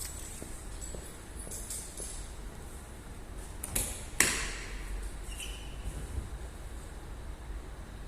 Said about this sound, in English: So now I'm going to just basically disarm it, arm it, and now disarm it